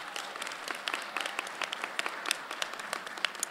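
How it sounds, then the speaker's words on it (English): An audience applauds steadily in a hall during a women's history month convocation, dense overlapping hand claps sustained throughout at a moderate distance. "let's give a warm hand clap for Dr."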